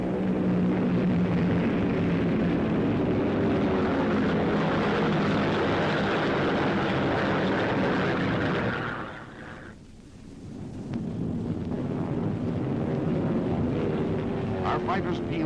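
Sustained roar of World War II warplanes in flight, with Focke-Wulf and Me-109 fighters among them, droning loudly and steadily, briefly fading in the middle before swelling again.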